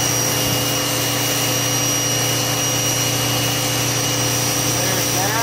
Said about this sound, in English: we can go ahead and push the pressure washer on